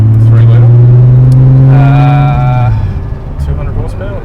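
Turbocharged 3-litre BMW E28 engine revving loud and close with a deep exhaust note, the tone climbing then easing off as the revs drop, with people talking over it.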